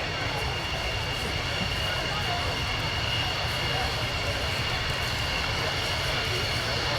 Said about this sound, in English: the aircraft in the Flypast is being flown by last year's F-16 demo pilot from the Belgians, Commandant Aviator Steven de Vries